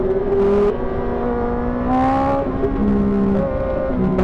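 A Kawasaki ZX10RR superbike engine heard from the rider's position, climbing through the revs in sharp rising sweeps, with quick drops between gear changes as the tone surges up again, loud and close.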